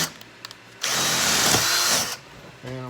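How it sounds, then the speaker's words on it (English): A power drill with a half-inch spade bit bores into a rubber mower tire, one loud continuous whirring burst lasting just over a second, framed by brief quieter handling noises and a voice at the end. "So the first thing I'm doing is drilling some half-inch spade bit holes."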